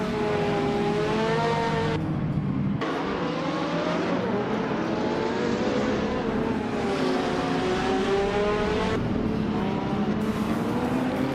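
Race cars in a racing video game roar steadily with rising and falling engine pitch, several cars overlapping as they pass and rev, loud and continuous throughout with brief drops in one engine's note.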